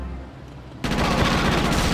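Gunfire erupts abruptly partway through from a single-shot, spreading weapon in the video game GTA Chinatown Wars, a loud dense burst of shots after a quieter start.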